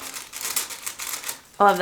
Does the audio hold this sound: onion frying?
no